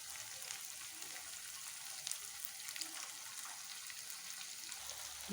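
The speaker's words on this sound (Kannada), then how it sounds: "ಟೊಮೊಟೊ ಹಾಕೊಂಡು ಸ್ವಲ್ಪ ಒಂದೆರಡು ನಿಮಿಷ ಫ್ರೈ ಮಾಡ್ತೀವಿ" Tomatoes frying in a pan with salt for a brinjal rice gojju, a soft steady sizzle with faint crackles, quiet and continuous with no talking.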